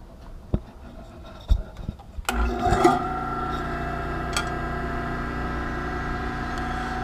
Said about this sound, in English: sander.